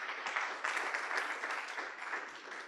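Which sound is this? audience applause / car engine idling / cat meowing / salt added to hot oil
audience applause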